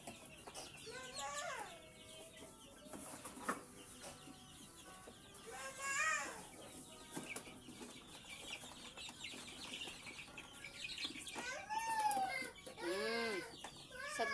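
Baby chicks raised by a breeder peep in repeated high, rising chirps, arriving in scattered bursts over a faint background hum.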